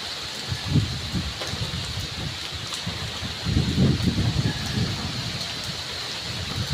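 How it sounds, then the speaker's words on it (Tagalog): Strong wind of Typhoon Marce roars steadily, with gusting surges and rain-like rushing noise throughout, fairly loud and close. "Yan, lakas pa ng hangin."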